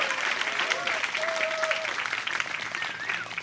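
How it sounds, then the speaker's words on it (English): Audience applause at an outdoor community band concert, a steady wash of clapping from a crowd that carries on through the whole stretch, with a faint whistle-like tone and a little background chatter beneath it. "You better clap for her too."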